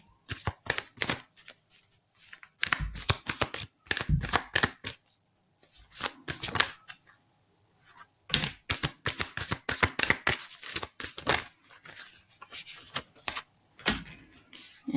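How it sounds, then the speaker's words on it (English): Playing cards are shuffled close up in repeated quick riffling bursts, with short pauses between each shuffle. "I'm just going to shuffle a few more times."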